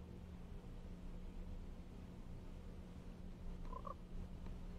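A frog in the Pocket Frogs mobile game gives a short, faint croak near the end, set against a low, steady hum of quiet background noise.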